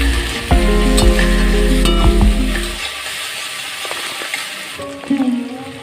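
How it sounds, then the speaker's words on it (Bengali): Spices stir-fried with green chillies and tomato in a pan, a loud close sizzle with ringing clinks and scrapes of a metal spoon, easing to a quieter crackle before a final stirring clatter. "কাঁচা লঙ্কা টমেটো দিয়ে ভালো করে কিছু মশলা কষে নিচ্ছি"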